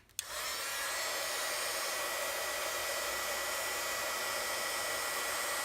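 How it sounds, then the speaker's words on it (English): A heat gun runs steadily for several seconds, melting embossing powder on a handmade birthday card, with a constant loud broadband blowing hiss after a brief click at the start. "I'll set that aside and then heat emboss this just real quick"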